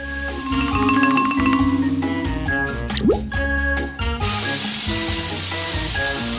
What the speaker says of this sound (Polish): Ze strachem i przerażeniem Ted otwiera puszkę coli.